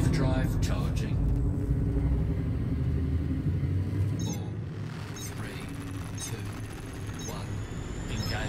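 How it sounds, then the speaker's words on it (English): In Elite Dangerous, the Frame Shift Drive charges with a deep rumbling build that swells and then shifts, loud and continuous, with a voice speaking over it. "Frameshift drive charging."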